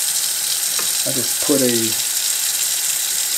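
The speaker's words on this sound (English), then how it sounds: "So I'm just going to turn the water on to the warm setting." Warm water streams steadily from a kitchen tap into a sink, a constant hiss running throughout while a voice speaks briefly over it.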